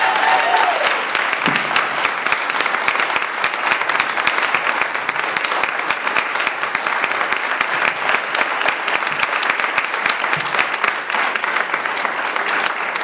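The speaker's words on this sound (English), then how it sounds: "they seriously deserve a round of applause to show our appreciation" Sustained audience applause at a cannabis alliance candidate forum for a sheriff's race, dense and steady for the whole stretch, with no talk over it.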